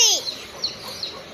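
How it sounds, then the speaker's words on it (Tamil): Baby chicks peep, one loud, high descending chirp up front followed by a few fainter, thin peeps spaced apart. "குட்டி கோழி அங்கதான் இருக்கு."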